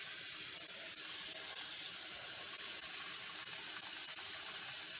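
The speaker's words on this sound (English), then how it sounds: "So just open up some water, make sure it's cold, grab your pan and fill it" Cold water pours from a kitchen tap into a pan of cooked noodles, a steady, even hissing stream that runs throughout at moderate loudness, with no talking.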